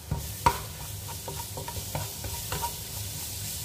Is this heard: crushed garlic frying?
yes